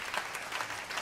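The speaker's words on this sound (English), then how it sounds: "Why don't you give your hands a round of applause" Applause from a jazz club audience at a live quintet show, a steady, moderately distant patter of many hands with a few louder individual claps rising out of it.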